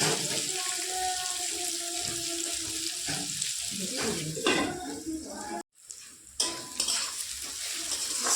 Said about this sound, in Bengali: পেঁয়াজ কিছুটা এটাকে একটু ভেজে নিচ্ছি আমি